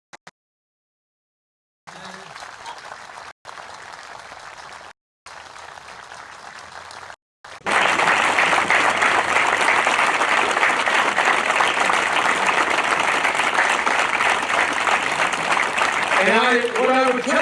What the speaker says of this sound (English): Please join me in a round of applause for this great American hero.